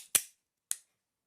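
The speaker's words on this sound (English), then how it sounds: "as you're loading the weapons, you can click the cylinder" A revolver cylinder being clicked while rounds are loaded: two sharp, close metallic clicks about half a second apart, the second softer, with silence around them.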